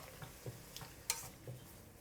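A utensil stirs chicken with oyster sauce, dark soy sauce and sugar in a pan, giving faint, sparse scrapes and light clinks.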